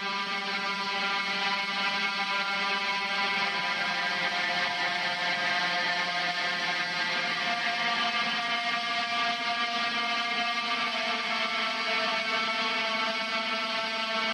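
Ambient rhythm guitar drowned in reverb and widened, in a metal mix, forming a continuous, dense wash of sustained tones with no clear attacks, steady and moderately loud throughout.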